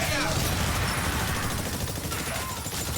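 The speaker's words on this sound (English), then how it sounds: "Starting to feel like I'm the only one shooting my grenades." Rapid thumping grenade launcher shots and bursting blasts in Exoprimal, a dense, steady barrage of loud fire filling the whole moment with no pauses.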